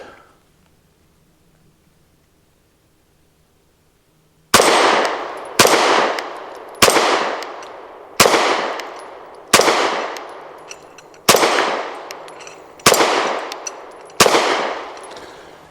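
Eight loud, evenly spaced pistol shots ring out from a SAR9 SC Gen 3 firing 124 grain rounds at a target, each sharp crack followed by a short decaying echo, after a few seconds of near silence.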